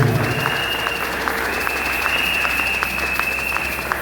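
A church congregation claps, loud and sustained with fairly even, rhythmic beats, as if clapping along in worship, close by, with music and voices blending into the background.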